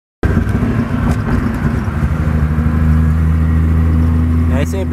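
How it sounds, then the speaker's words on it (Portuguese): Chevrolet Opala six-cylinder engine heard from inside the car, a loud steady idle hum with strong low harmonics that starts abruptly and runs continuously, with light rattles on top. "Estou aqui dentro do Opala 6 cilindros"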